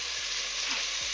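Schezwan fried rice is stir-fried in a pan, giving a steady close sizzle with light scraping stirs, with no talk.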